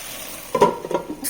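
Potatoes frying in a pan with onions and cumin, a soft steady sizzle with a few brief stirring scrapes and clinks near the end, close and moderately loud.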